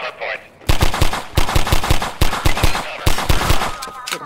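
Rapid automatic gunfire from Half-Life 2, loud and close, with bursts of shots in a steady rhythm across the whole stretch after a brief quiet opening.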